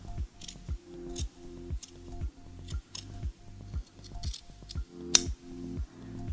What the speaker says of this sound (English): I'm just going to turn those in half and cut them out.